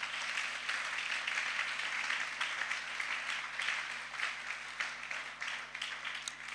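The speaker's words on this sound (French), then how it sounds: "Acclamons encore le Seigneur." A church congregation applauding through a steady, moderately distant wash of clapping that runs the whole time at an even level, with no clear speech over it.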